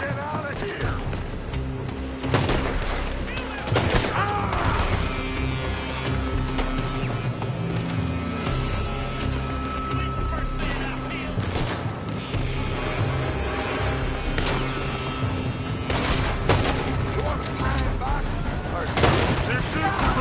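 Sustained gunfire from a PS4 video game battle, dense bursts and sharp shots cracking continuously over a busy background of game noise and voices.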